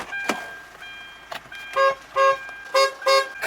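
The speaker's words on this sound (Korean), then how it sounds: "크락션 소리 한번 올려볼게요" After a few soft clicks, the horn of a Hyundai Santa Fe CM gives four short honks in two quick pairs, fairly close and clear.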